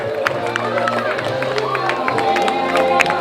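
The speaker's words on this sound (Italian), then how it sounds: "un applauso a Teo" A crowd claps and cheers at a running race finish in Sanremo under an announcer's voice speaking Italian over a loudspeaker, with scattered sharp claps throughout.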